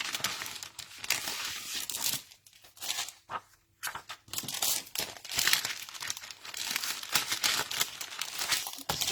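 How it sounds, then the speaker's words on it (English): A scrap of vellum paper crinkles and rustles close up while being handled for a patterned-paper layout, in bursts of crisp crumpling with a couple of brief pauses and no talking. "Forgive all the rustling."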